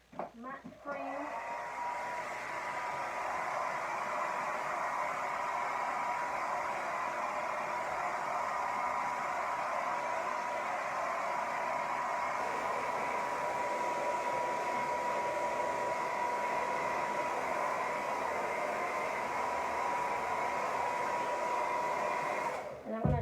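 A hair dryer runs steadily for over twenty seconds, blowing across a freshly painted acrylic canvas, a close, even, continuous roar with faint talk barely present beneath it.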